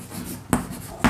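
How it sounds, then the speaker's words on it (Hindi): Chalk or marker strokes on a classroom board during a differentiation lesson, two short sharp taps or scrapes about half a second apart over faint room noise. "या लिख देता हूँ, एक स्टेप और लिखता हूँ"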